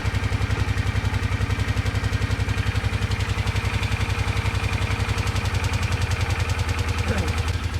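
A motorcycle engine idles steadily after starting, with a fast, even chugging pulse close by that holds for the whole stretch, no voices over it.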